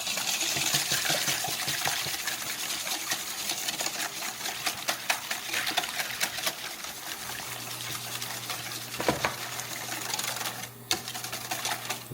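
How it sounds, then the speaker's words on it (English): Eggs being whisked in a bowl for panettone French toast, a steady fast clicking and tapping that runs continuously at moderate level, with no talk. "And we'll give that a whisk."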